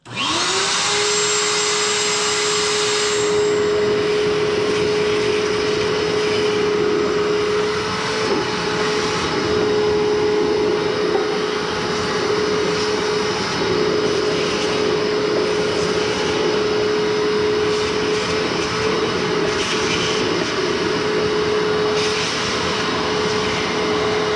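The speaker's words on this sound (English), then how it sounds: "we could use a vacuum cleaner too" A vacuum cleaner starts up and runs steadily with a loud, constant whine and roar, close by, with no talking.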